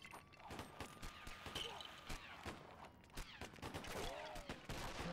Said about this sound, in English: We got a firing range going on over here.